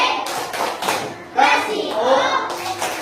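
Children in a classroom perform a rhythmic clapping cheer, with short bursts of hand claps mixed with shouted chant voices, close and lively.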